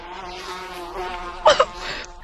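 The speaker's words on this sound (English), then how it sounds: "The bees are here!" Synthetic bees buzz in the Gorilla Tag video game, a steady droning hum with bursts growing louder near 1.5 seconds and again at the very end.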